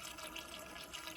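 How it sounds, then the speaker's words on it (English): Ready-mixed coolant pours into the coolant tank of a 2019 Toyota C-HR Hybrid, a brief, steady, close liquid rush and gurgle with no talking. "you can go into a petrol station and buy the stuff ready mixed and just pour it into the tank"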